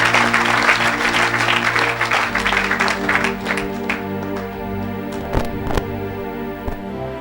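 A church congregation claps and cheers in a loud, dense burst of applause that gradually thins into scattered claps toward the end.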